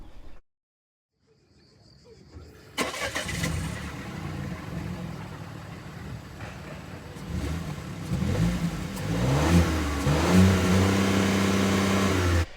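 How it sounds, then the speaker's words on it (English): A DS4 hatchback's exhaust with a 1.3-litre naturally aspirated three-cylinder engine, heard close after a brief silence, settling into a steady idle before revving up in rising and falling pulls toward the end. "So let's take a listen to the exhaust."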